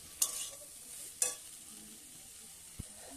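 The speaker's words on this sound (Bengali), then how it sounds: "এই যে মশলা বাটা হয়ে গেছে, এই যে করে নাড়া হচ্ছে" Ground spice paste fries in a pan for a Bengali village-style lau shaak chorchori curry, with a soft, steady sizzle broken by a couple of sharp spoon scrapes and a light knock.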